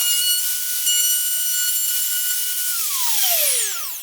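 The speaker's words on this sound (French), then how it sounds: "défonçage du tiroir" A high-pitched router whines steadily at full speed cutting a wooden drawer, then its pitch slides down as it spins down near the end.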